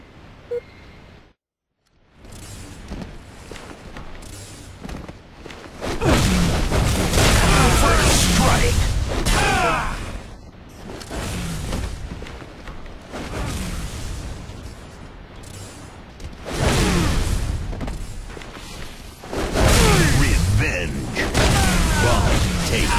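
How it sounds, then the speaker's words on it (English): Heavy booming explosions and bursts of gunfire from a Halo Grifball match, loud and repeated across the clip, with game announcer callouts heard over the blasts. "Double kill. Bomb detonated."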